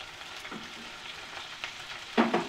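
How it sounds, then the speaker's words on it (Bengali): Chicken sizzles and crackles steadily with spices in a hot pan over high flame, with a few louder bursts of spattering as it is stirred. "ভালোভাবে চিকেনগুলোকে মশলার সঙ্গে ভাজবো"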